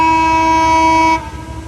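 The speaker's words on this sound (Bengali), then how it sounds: "মধুমতি এক্সপ্রেস ট্রেনটি এখন শ্যামপুর থ্রু পাস করে যাচ্ছে" The Madhumati Express's horn blares in a long, steady, loud blast as it passes through Shyampur station, then cuts off, leaving rumbling rail noise behind.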